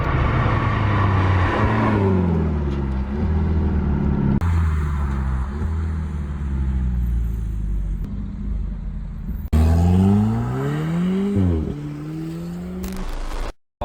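An Alfa Romeo 4C Competizione's turbocharged four-cylinder engine drones loudly from inside the car, rising in pitch through several accelerations with gear changes between them before cutting off at the end.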